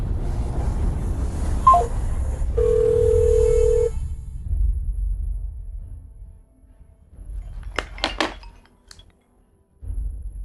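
A telephone being dialed in a domestic drama: a steady electronic tone holds for about a second, followed a few seconds later by a quick cluster of short bright beeps over low background noise.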